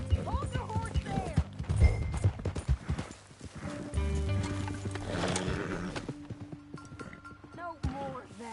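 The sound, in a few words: horse whinnying and hooves in video game Red Dead Redemption 2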